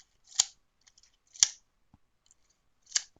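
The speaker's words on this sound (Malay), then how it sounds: "Okey, ini pita ukur." A tape measure is handled in a classroom, giving three sharp, separate clicks spaced about a second apart against near silence, with a few faint ticks in between.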